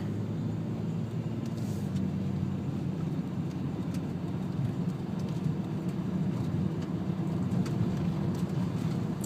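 A 2002 Dodge Intrepid with its 2.7 engine driving along, a steady low engine and road rumble heard from inside the car, continuous and even with no speech.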